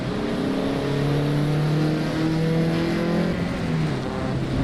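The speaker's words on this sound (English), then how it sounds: "Man, this car's loud." Loud turbocharged race car engine in the Assetto Corsa Evo driving game, droning and rising in pitch through the gears on a rainy track, close and continuous with no talk.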